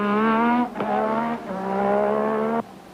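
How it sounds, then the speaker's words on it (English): Honda V6 Formula One engine of 850 horsepower racing at the Canadian Grand Prix, a loud close whining harmonic engine note that holds steady, dips briefly around a gear change, then climbs again before cutting off abruptly. "You hear the Honda engine, the V6 850 horsepower Honda engine"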